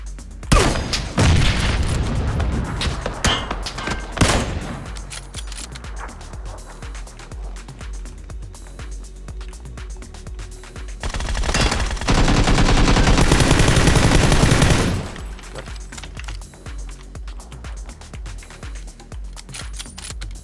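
Heavy bursts of gunfire from a PUBG battle, with sharp single shots early on and a dense, loud sustained volley near the end, set against an ongoing low game ambience.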